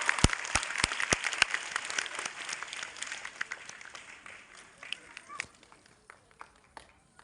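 A crowd claps loudly at a Bengali dance-school function as sashes and gifts are handed out, sharp dense applause up front that thins into scattered claps toward the end.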